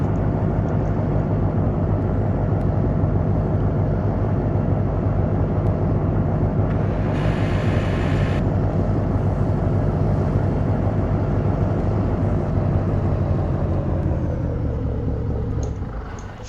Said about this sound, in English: This truck is just super, super loud.